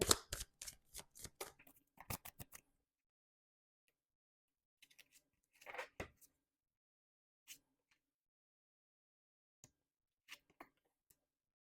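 A deck of tarot cards shuffled for a reading: a quick burst of crisp riffling flicks at first, then sparse, scattered card snaps and soft slides with quiet gaps between them.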